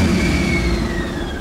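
KrAZ-260 truck diesel, a YaMZ-238 turbo engine run after storage, revving close by with a loud low rumble and a falling turbo whine, a brief steady burst with no talking.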